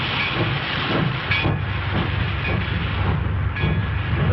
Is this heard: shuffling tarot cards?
no